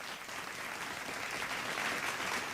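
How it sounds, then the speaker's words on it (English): Applause from the audience at a school debate competition, a steady, fairly soft wash of many hands clapping that carries evenly through the whole stretch without any voices. "a round of applause for Abdul-Nasir Kauther"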